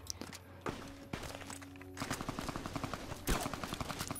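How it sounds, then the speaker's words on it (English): Rapid bursts of gunfire from a fast-firing weapon in the Fallout New Vegas video game, repeated cracking shots in quick rhythmic strings with a few louder single reports, fairly close and dominant throughout. "someone is shooting me with something fasty"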